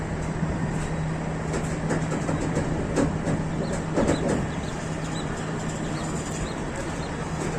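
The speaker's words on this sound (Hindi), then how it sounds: "वन 130 डाउन थल एक्सप्रेस पाईखेल से रवाना।" The Thal Express, a Pakistan Railways train, pulls out of Paikhel station with a steady rumble and clatter of rolling wagons and a low constant hum, with faint birds or a rooster in the background.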